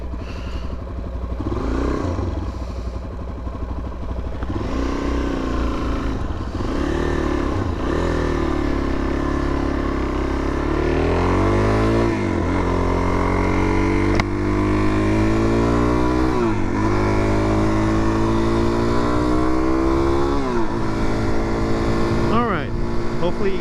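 A Suzuki DRZ400 motorcycle is ridden on a public road, its single-cylinder engine close and loud as it climbs and drops through repeated revs and gear changes. Wind and road noise run underneath the whole time.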